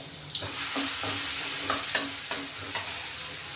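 Green chili, garlic and cumin paste sautéing in a pan, a soft continuous sizzle broken by a few sharp spatula clinks and scrapes at irregular intervals, no talking.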